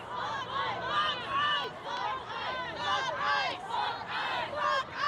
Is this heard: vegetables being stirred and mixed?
no